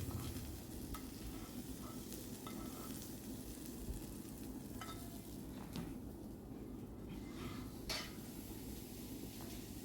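Eggplant frying on a tawa, giving a continuous low, crackling sizzle that holds steady throughout, with a few faint clicks and utensil taps on top, quiet and close with no talk.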